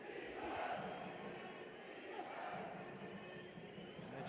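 A boxing arena crowd at the AIBA World Boxing Championships roars in support of Kazakh boxer Ivan Dychko against Magomedrasul Majidov, a steady broad wash of cheering, moderately loud with a commentator's voice over it.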